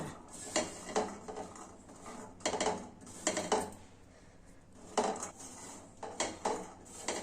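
Spiced, soaked chickpeas and carrot get stirred in a pan, a spoon scraping and clinking against the metal in uneven bursts, soft and close, with short quiet gaps between strokes.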